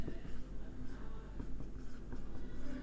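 A formula being handwritten during a maths lesson on perimeter, with steady close scratching strokes and short taps running continuously through the clip.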